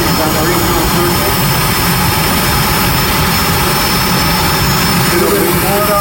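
A modified pulling tractor in the Scheid Diesel High Torque Super Farm Tractor class roars loudly and steadily at an NTPA tractor pull in Bowling Green, Ohio, a continuous heavy engine drone filling the scene with an announcer talking over it.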